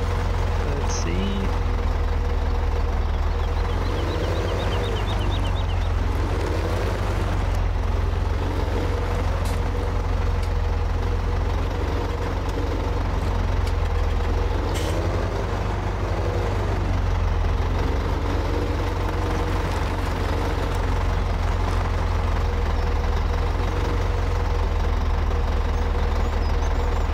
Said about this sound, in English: I'm getting better with this tractor shovel.